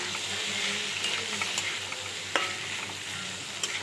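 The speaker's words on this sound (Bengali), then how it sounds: "টমেটো কুচিটাও দিয়ে দিলাম, দিয়ে আবারও একটু ভালো করে নেড়ে চেড়ে নেব" Chopped chilli and tomato are stirred in a sizzling pan for soybean pasta, a steady hiss of frying with scraping spatula strokes and a few sharp clicks, no voices.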